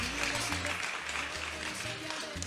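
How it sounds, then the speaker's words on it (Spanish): Studio audience applause on a Mexican TV variety show, a brief burst of steady clapping with musical tones sounding beneath it. "gracias a los que aplaudieron."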